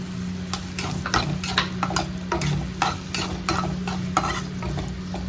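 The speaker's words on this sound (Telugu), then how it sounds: "ఇది కొంచెం వేడి పడిన తర్వాత మనం ఇందాక కోసి పెట్టుకున్న ఉల్లిపాయలు వేసుకుందాం" Chopped onions frying in hot oil for a curry-leaf chicken fry, a steady close sizzle with repeated scraping stirs at a regular pace, no voices.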